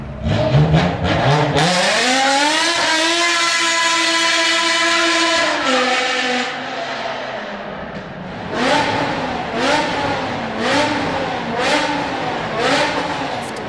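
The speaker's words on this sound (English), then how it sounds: "the same screaming 5-litre S85 from the E60 M5" A BMW S85 5-litre V10 revs loud and high, rising in pitch, holding a sustained scream, then dropping away before a series of shorter repeated revs.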